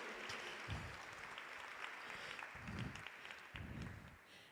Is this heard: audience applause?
yes